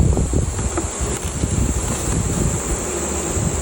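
Honeybees buzz around a beehive in a bee yard, a continuous close drone with individual insects passing near over light wind noise.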